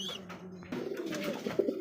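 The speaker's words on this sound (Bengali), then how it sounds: "চমৎকার এক জোড়া লাইট কালারের মধ্যে সবজি রেসার কবুতর" A pair of light-coloured racer pigeons at a pigeon farm give a soft, close coo that rises out of quiet background noise partway through the brief moment.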